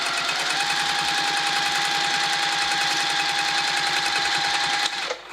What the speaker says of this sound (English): The opening, I'm sewing it shut.